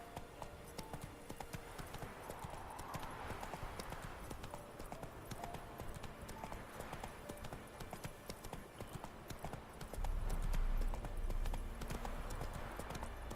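A horse gallops in The Witcher 3 video game with steady, continuous clip-clop hoofbeats throughout, close and moderately loud, growing a little heavier near the end.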